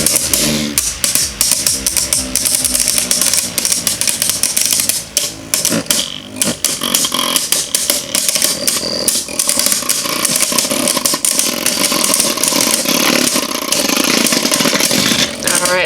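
Stock Ragnarok and other Beyblade Burst Superking spinning tops clash in a stadium, making a loud, dense whir packed with rapid clacks and grinding scrapes that lasts throughout.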